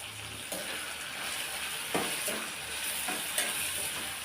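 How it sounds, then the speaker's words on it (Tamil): Tomatoes sauté in a pan for a chutney, giving a steady broadband sizzle with a few soft stirring scrapes and clacks spaced through it, close and even, with no talk. "ஒரு ரெண்டு நிமிஷம் தக்காளியை நல்லா வதக்கி விட்டுக்கலாம்"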